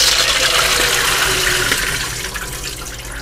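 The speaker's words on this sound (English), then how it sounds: "I then fill the bowl with about 2/3" Water gushing from a tap into a bowl of harvested black walnuts, a loud, close, continuous splashing rush that eases slightly toward the end.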